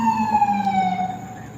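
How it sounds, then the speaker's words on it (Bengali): Wailing ambulance siren passing on a street in Jackson Heights, New York, loud and steady with a slowly falling pitch, over low traffic rumble. "এই মুহূর্তে আমাদের এখানে একটা অ্যাম্বুলেন্স যাচ্ছে হয়তো সাউন্ডটা"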